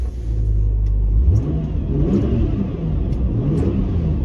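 An old Subaru Outback with 128,000 miles revs hard while driving, its engine note climbing sharply in pitch and then settling into a throaty mid-range rumble, loud and close throughout.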